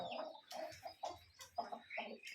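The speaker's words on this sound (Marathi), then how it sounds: "हे आपला गावरान कोंबडा" A native country rooster about a year and a half old gives a run of short, throaty clucks and calls close by, in uneven bursts against a quiet background.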